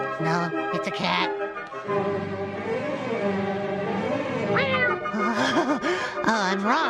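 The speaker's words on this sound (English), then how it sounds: "No, it's a cat." A cartoon cat meows repeatedly in drawn-out, wavering cries, close and loud, with a person talking alongside.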